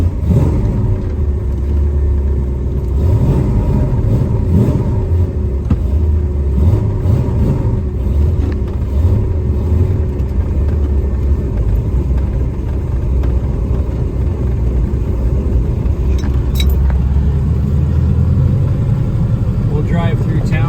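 A 1972 Plymouth Road Runner GTX replica drives along, its engine giving a steady loud low rumble that carries throughout, with a brief rise in revs near the end.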